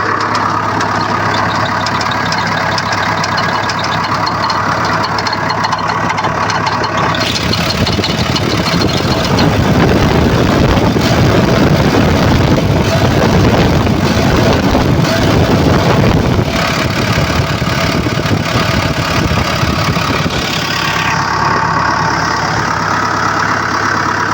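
A heavy diesel engine of an overheating Komatsu PC75UU excavator idles steadily nearby, a continuous low rumble with a brief rise in rough, knocking roar midway before settling again.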